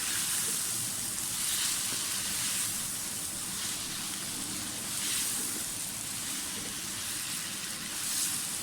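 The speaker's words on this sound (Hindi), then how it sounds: "मसाले को हमें जलने नहीं देना, सिर्फ 1-4 सेकंड के लिए इसको भूनना है" Garam masala, turmeric and other spices sizzling and frying in a pan, a steady close hiss that carries on evenly without talk.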